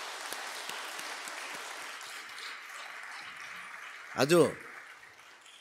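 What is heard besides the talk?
church congregation applauding in encouragement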